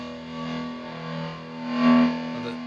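A steady, buzzing distorted cigar box guitar tone with humbucker pickup and layered effects, swelling slightly louder near the end, with no voices.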